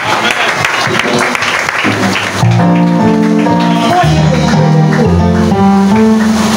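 A church congregation bursts into loud applause during a Sunday service, the clapping then giving way to piano or organ chords and sustained music, all close and strong.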